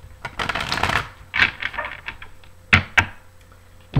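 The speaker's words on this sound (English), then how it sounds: "I will shuffle a few more times for the camera." Tarot cards are shuffled in quick riffling bursts, close by, with short pauses and a few soft taps between.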